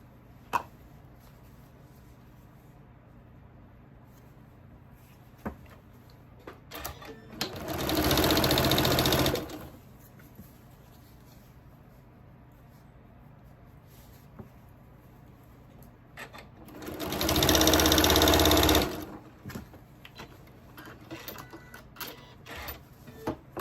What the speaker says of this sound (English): Now we're going to start chain piecing again.